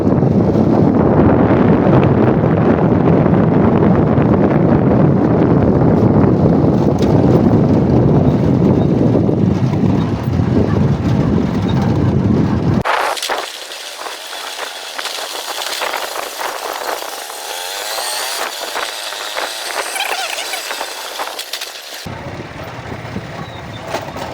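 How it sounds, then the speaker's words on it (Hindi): Loud, steady motorcycle engine roar with heavy wind rush across the microphone while riding through a village in Punjab, then shifting to thinner whining road noise. "क्योंकि मैं मोटरसाइकिल पे हूँ, शोर थोड़ा ज़्यादा आ रहा होगा"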